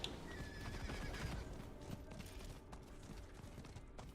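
A horse whinnies and its hooves clip-clop in a video game, with faint mechanical creaks in the background; quiet and close.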